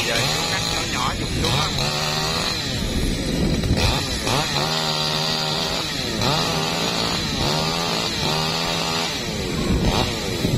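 A chainsaw cuts up a large branch from a Java plum tree, its loud close engine revving and bogging in repeated surges as it bites into the wood, steady for the whole stretch.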